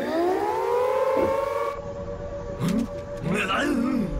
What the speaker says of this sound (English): Oh, so that's the siren then.